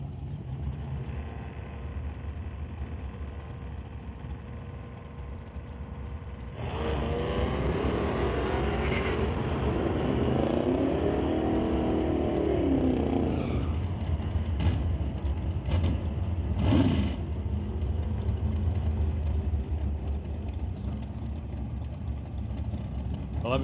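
Drag race cars launch side by side at a sportsman race, a Mustang facing another car: engine roar swells abruptly, holds a loud rising drone for several seconds, then fades into a distant rumble and background crowd noise.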